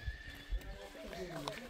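A large mare with her foal whinnies in a quavering, drawn-out neigh, fairly faint and close, with low thuds and a little background voice activity around it.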